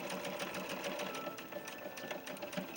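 A sewing machine stitches a small dress shirt for a ball-jointed doll, its needle chattering in a fast, steady, even rhythm, close by and fairly quiet, with no voices over it.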